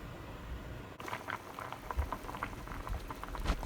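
Water boils vigorously in a pot as tofu is parboiled for Sichuan mapo tofu, a dense, steady bubbling and popping heard up close throughout without any voices.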